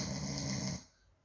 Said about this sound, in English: He tells me that I sound like I snore really loud